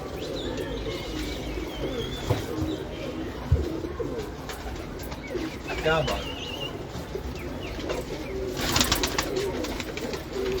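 Pigeons coo softly and repeatedly nearby while people talk over them, with some rustling and wing flutters.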